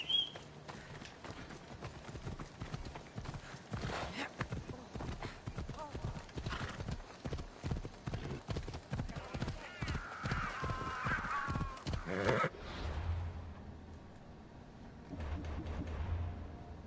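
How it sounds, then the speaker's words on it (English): Horse hooves clip-clop at a brisk riding gait in Assassin's Creed Odyssey, with steady rhythmic hoofbeats, a neigh, and game sounds alongside a voice talking, before the hoofbeats fade toward the end. "It's gonna take me a minute to ride the horse there"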